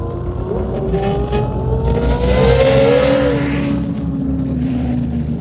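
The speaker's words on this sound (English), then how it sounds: "Here's the most modern car you can think of." A modern race car at Road America's turn 5 during the Indy Xpel Grand Prix roars past up close, its engine note loud and sweeping up then down in pitch through the corner, with no one talking.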